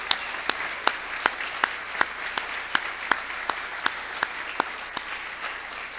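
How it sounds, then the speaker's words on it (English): A church audience at a benefit concert applauds its choir, a steady patter of scattered claps with sharp individual hand slaps standing out at an even pace, fairly light and thin rather than a dense roar. "let's give a round of applause for our choir"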